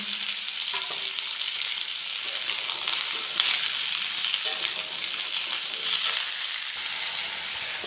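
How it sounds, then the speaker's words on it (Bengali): Pumpkin, potato and pointed gourd fry in oil in a pan, giving a steady close sizzle with intermittent stirring scrapes and light clinks throughout. "তেলের সাথে ভালো করে নাড়িয়ে কুমড়োটা ভেজে নেব। এর সাথে সাথে ভেজে রাখা আলু আর পটল দিয়ে দেব।"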